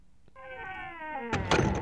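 The cat Mrs. Norris in the Harry Potter and the Philosopher's Stone video game gives one drawn-out, falling meow, followed by a dull thunk and a short burst of noise.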